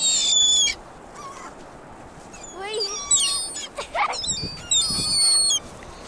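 Seagulls on Cherry Grove Beach call in repeated high, wavering cries and yelps, some close and loud, others farther off, over steady shoreline noise.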